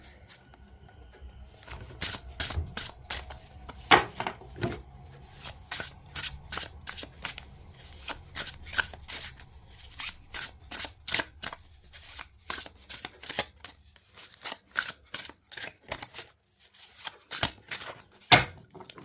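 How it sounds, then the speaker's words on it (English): Rapid riffle shuffles of a tarot card deck, repeated bursts of crisp flicking and bridging snaps, close up and steady, with no talking. "So let's see how they shuffle."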